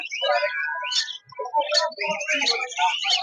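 Many birds chirp and tweet at once at a busy parrot market in Tongi, Bangladesh, with lories among them, a dense overlapping chorus of shrill calls and whistles with hardly a pause.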